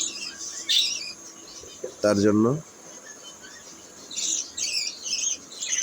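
Small caged birds chirp and twitter in bursts close by, with a short spoken phrase in the middle and a steady faint hum of a fan underneath.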